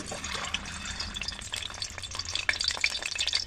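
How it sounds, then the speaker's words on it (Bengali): Two eggs frying in oil in a pan give off a close, steady crackling sizzle with small pops, heard alone without any talk. "এবার আমি ডিম দুটো ভেজে নেব।"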